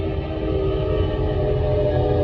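A train rolls past close by, a loud sustained rumble with a steady horn-like drone layered on top, continuous for the whole stretch without speech.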